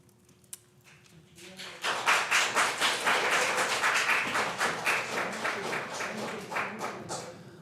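An audience at a city council meeting breaks into applause after a brief quiet moment, a dense burst of many hands clapping that holds steady for several seconds and then thins out.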